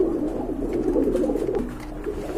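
A Johnson bloodline high flyer pigeon, a Pakistani line, coos steadily up close in a low, continuous throaty rumble with no voices.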